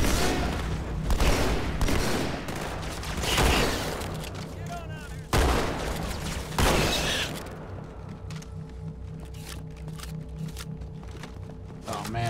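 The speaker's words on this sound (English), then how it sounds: "Who's shooting?" Halo 2 combat gunfire with heavy rapid bursts and booming shots in the first half, fading to quieter sporadic fire and a low drone, with someone talking over it.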